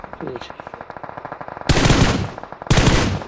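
Rapid bursts of automatic gunfire in PUBG Mobile rattle steadily, then two loud, sharp blasts of heavier .50 caliber gunfire cut in close.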